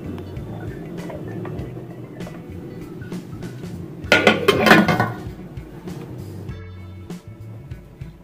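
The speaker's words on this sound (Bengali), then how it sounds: "এবার এটাকে মিশিয়ে দেবো আর ফার্মেন্ট হতে দেবো আমি 6 ঘন্টা" Coconut and flattened rice dosa batter mixed in a bowl, with soft steady stirring and a brief burst of utensil clinking against the bowl midway, close over a low background hum.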